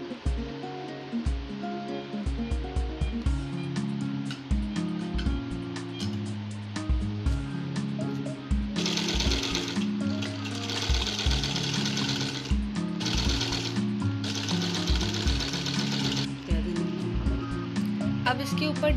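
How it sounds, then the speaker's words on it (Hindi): A sewing machine stitches fabric for a ladies' suit neck design, with a fast, rhythmic mechanical chatter that runs steadily in close bursts, growing louder and busier partway through. "इसके बाद हम एक और फोल्ड करेंगे और इसके ऊपर की तरफ सिलाई लगा देंगे।"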